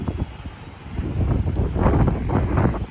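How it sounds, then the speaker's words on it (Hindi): Outdoors on a rooftop, gusty wind buffets the microphone in loud, uneven rumbling bursts that grow stronger in the second half. No one is speaking. "वाह मस्त हवा चल रही है"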